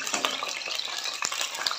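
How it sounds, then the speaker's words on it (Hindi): Green chillies, five or six of them, frying in lightly heated oil with a steady, close crackling sizzle and small clinks of a stirring spoon, no voices. "ऑयल हमारा हल्का गरम हो चुका है। 5 से 6 हरी मिर्चें डालेंगे, 2 मिनट के लिए भूनेंगे"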